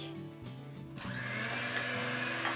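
An electric hand mixer whisks cupcake batter in a bowl, its motor starting with a few short bursts before settling into a steady high whine that grows slightly louder and holds to the end, with no talk.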